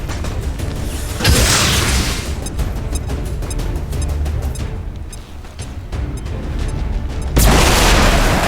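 A thrown explosive detonates in XCOM 2 with a loud, broadband boom near the start, followed by rumbling debris and clatter, then a second heavy blast at the end.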